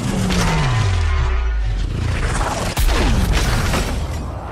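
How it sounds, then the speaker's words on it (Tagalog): A cannon in a war film scene set at the Battle of Stalingrad fires on a house, giving a loud sustained roar and boom with a sharp blast near the middle and descending mechanical whines, dense and close throughout. "biglang pinaputokan ng mga Aliman ang buong bahay gamit ang kanyon"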